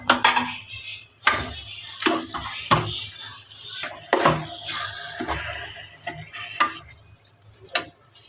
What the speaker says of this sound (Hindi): तो अब इसमें मैं भिंडी ऐड कर दूंगी जो मैंने फ्राई करके रखी हुई थी।